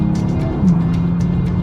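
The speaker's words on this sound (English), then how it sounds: "Put my foot down in an M4." A BMW M4 under hard acceleration, a loud, steady engine roar close up that holds continuously through the short stretch with no pauses.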